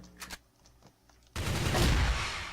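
Gunfire in the video game CrossFire, starting with a few quiet shot pops and then a loud, dense burst of continuous firing that fills the rest of the moment.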